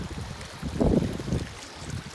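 Strong wind buffets the microphone at sea while waves slosh against a boat, forming a continuous rough roar with a louder gust near the middle.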